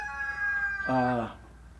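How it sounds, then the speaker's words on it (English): A brief, harmonic crowing call cuts in over a steady background hum, lasting under a second. "stupid rooster, man, throws me off my concentration"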